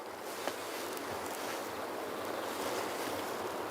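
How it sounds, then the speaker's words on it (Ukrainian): Strong wind roars steadily across the microphone on a riverbank while shore fishing, a constant buffeting rush with faint water sounds underneath and no talking. "Ох, шалений вітер, шалений"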